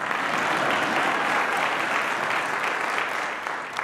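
Sustained audience applause at a congressional town hall, a dense steady wash of many hands clapping at full volume for several seconds before easing slightly at the end.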